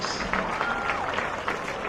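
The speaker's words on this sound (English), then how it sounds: "let's have a round of applause for all of our senior football players and for the class of 2026" Applause from a crowd at a high school varsity football game, honoring senior players, comes as a steady, fairly faint patter with some crowd noise behind it.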